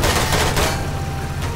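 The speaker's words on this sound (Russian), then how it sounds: "Тут стрельба по мне!" Gunfire in the video game Garry's Mod, a loud, dense burst of rapid shots crackling continuously and close up, with no voices over it.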